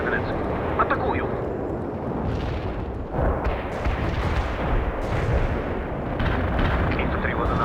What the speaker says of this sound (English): Launching a barrage. Zeroing in on those coordinates.